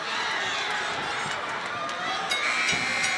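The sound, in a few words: crowd urging MMA fighters to finish strong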